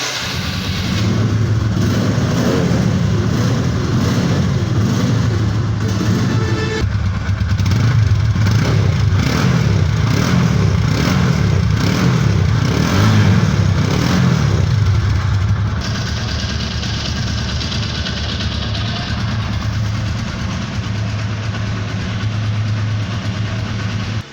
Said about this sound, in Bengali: বাইকটির সাউন্ড কোয়ালিটি, বাইকটি পিক আপ টেনে এবং ছেড়ে দিয়ে